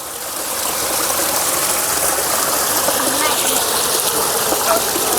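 A dry bag thrown into a stream near a small waterfall, with steady rushing water throughout and splashing impacts blending into the constant flow.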